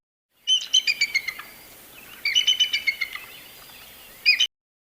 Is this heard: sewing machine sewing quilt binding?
no